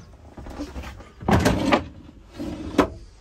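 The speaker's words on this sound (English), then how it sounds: "Nice drawer here for your silverware." A silverware drawer in a 2005 Roadtrek 210 Class B camper van slides open and shut, giving two short rattling bursts of wood and runner noise, close and fairly loud, with softer handling sounds between.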